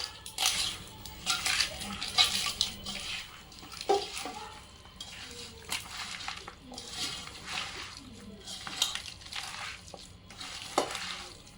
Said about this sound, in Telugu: ఇప్పుడు దీన్ని మంచిగా కలపాలి